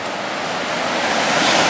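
Ocean surf breaks against the rocky coastline at Crescent City, California as a loud, steady wash of hissing water mixed with wind noise, with no voices.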